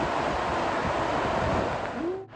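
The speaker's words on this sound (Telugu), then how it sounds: "మొత్తానికి మన వాటర్ ఫాల్ చేరుకున్నాము" Waterfall in a restricted forest, heard as a steady, loud rushing roar of falling water with some wind buffeting, close and continuous, ending in a brief tonal blip and cutoff.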